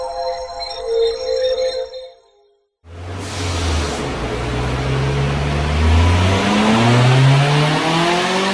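A loud supercharged K-swap Honda Civic engine on a dyno roars and revs steadily after a brief quiet gap, its pitch climbing in repeated sweeps, with fainter sounds heard beforehand.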